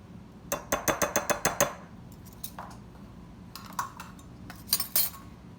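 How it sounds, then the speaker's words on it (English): Rapid metallic clinks of a whisk striking a bowl while dry baking ingredients with baking powder are mixed, a quick burst of about eight taps followed by scattered lighter clinks and scrapes. "I'm just gonna whisk this together"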